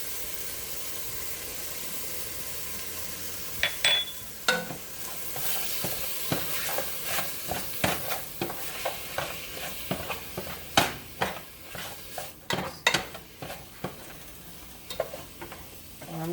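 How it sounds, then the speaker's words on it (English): Ground meat seasoned with onion powder and garlic powder browns in a soup pot, a steady close sizzle and hiss broken by repeated sharp scrapes and clinks of a spoon stirring, growing busier over the second half. "I'm just going to finish letting my meat brown"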